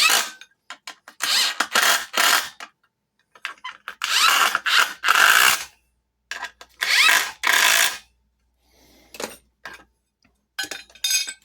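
A power drill drives screws while fabricating greenhouse brackets, in a series of short, loud whirring bursts separated by brief pauses, close up.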